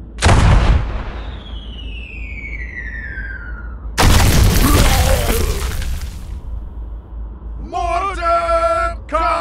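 Mortar fire in a Warcraft 3 Reforged cinematic battle: a loud sharp blast, a descending whistle, then a heavy crashing explosion lasting a couple of seconds, followed by a warbling, siren-like tone.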